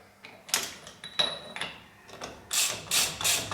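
A ratchet tightening a nut on a Jaguar independent rear suspension shaft, with a handful of sharp metallic clicks and clanks at irregular intervals, close by, and no talking.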